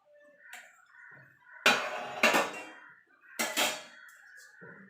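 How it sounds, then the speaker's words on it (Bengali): Cauliflower leaves dropped into a mixer grinder jar, giving a few sharp clattering knocks and rustles in a quiet kitchen, with short gaps between them and no speech. "আমি একটা মিক্সির জার নিয়ে নিয়েছি জারের মধ্যে কপির পাতাটা দিয়ে দেবো"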